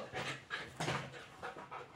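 A female dog panting close by in quick, rhythmic breaths, fairly quiet, with no talking.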